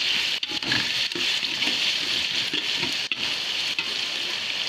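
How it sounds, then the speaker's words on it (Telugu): Onions frying in a pan for biryani, stirred steadily until brown, giving a continuous close sizzle with soft scraping strokes from the spoon and no talk. "ఉల్లిపాయలు బాగా బ్రౌన్ కలర్ వచ్చే వరకు వేయించుకోవాలండి కలబెట్టుకోవాలి బాగా"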